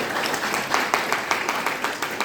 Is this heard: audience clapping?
yes